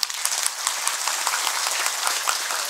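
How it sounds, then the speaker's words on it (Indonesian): Lively audience applause, a crisp, dense patter of many hands clapping with small sharp peaks, filling the whole stretch at a steady, fairly loud level. "Tepuk tangan lu nih"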